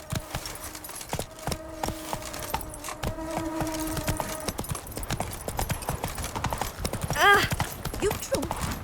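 Geralt's horse Roach trotting in The Witcher 3 game, a rapid steady clip-clop of hooves close by under game music, with a short whinny-like rising sound near the end.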